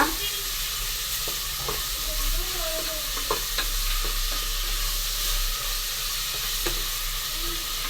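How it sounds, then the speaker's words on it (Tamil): Vegetables for a veg kurma sizzle and fry in a hot pan, with intermittent scraping and stirring clicks from a utensil over a steady hiss. "போட்டு நல்லா வதக்கிடுவோம்ப்பா"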